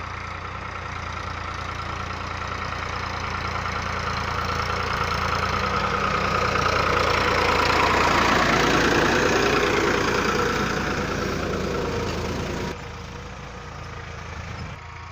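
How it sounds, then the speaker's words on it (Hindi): Tractor engine working a wheat field during sowing season, a steady mid-to-low droning rumble that swells slightly toward the middle, then drops in level near the end, with no talking. "इसके बाद ट्रैक्टर से उसकी जुताई खेत की अभी हो रही है"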